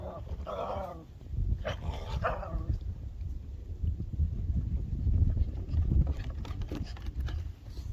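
A dog growls low and rumbling at close range, with a couple of short barks near the start, the grumbling continuing steadily and fairly loud afterward.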